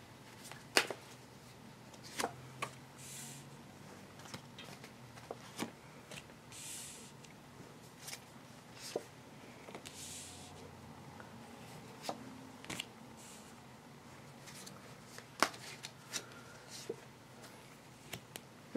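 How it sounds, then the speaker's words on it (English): Tarot cards are shuffled by hand in soft, faint riffles and flicks, with scattered sharp snaps and taps at irregular intervals over a quiet room background. "Shuffling the cards."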